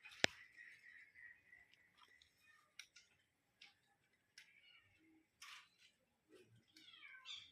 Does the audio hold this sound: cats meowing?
yes